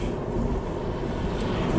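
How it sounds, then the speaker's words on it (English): A couple of dump trucks pass on a mountain road while heard from inside a moving Ford Focus, a steady, loud low rumble of road and engine noise with no break across the short stretch. "A couple of dump trucks."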